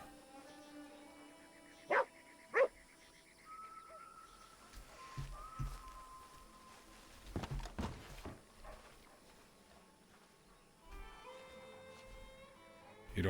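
Dogs barking in the Red Dead Redemption 2 town of Tumbleweed, two sharp close barks followed by quieter yelps and rustling, with a horse's hoofbeats and faint birdsong in the background.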